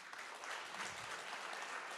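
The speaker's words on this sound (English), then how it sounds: "let's give them both a round of applause" Audience applause at a congress in Vienna, a steady wash of many hands clapping, moderately distant and even throughout.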